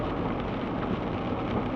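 Steady rain pours down outdoors on a mountain meadow hike, with a continuous loud hiss and low rumbling of thunder mixed in, no voices.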